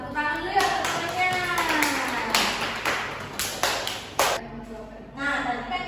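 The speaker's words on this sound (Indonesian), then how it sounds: "sama-sama tepuk tangan dulu ya semuanya." Elementary classroom students clap together in several irregular bursts of sharp hand claps, mixed with children's and a teacher's voices talking over the noise.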